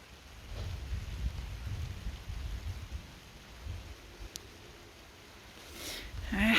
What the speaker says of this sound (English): the rain started unexpectedly